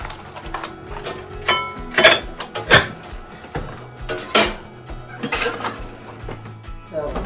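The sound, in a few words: removing and replacing pot lid, placing sourdough in hot pan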